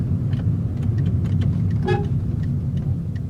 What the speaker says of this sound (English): The horn is company fitted.